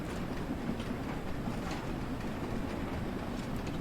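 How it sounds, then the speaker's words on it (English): A steam locomotive in the Train Sim World 2 video game slips its wheels on a winter climb as steam pressure drops, giving a steady, loud rolling rumble with dense rhythmic chuffing throughout. "that's wheel slip right there"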